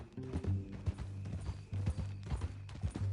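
Horse hooves clip-clop steadily in Red Dead Redemption 2, a close, rhythmic trot with a few pauses, set under a low droning musical or ambient background.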